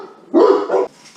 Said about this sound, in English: The obligatory dog barking interlude came relatively early this week.